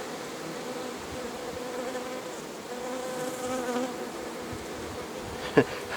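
Honeybees buzz around the entrance of a beehive, a dense, continuous hum of many wings at moderate volume with a brief louder buzz as one flies close near the end.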